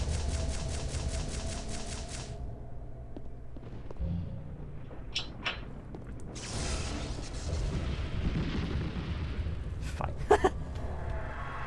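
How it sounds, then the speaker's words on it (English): Fireworks in a video game go off in scattered bursts, sharp crackling pops and a few louder bangs over a steady low rumble and clicking game sounds, with no voices. "Fireworks."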